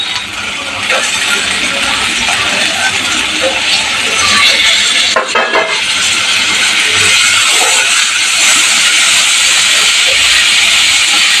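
Cut broad beans with turmeric fry in a hot pan for an egg stir-fry, giving a loud, steady sizzling hiss that runs unbroken throughout.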